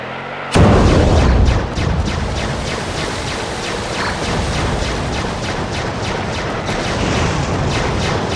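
Rapid bursts of Twisty Rockets fire in the WWE Crush Hour vehicle combat game, a sudden loud blast followed by a dense rattling barrage of repeated booming shots throughout.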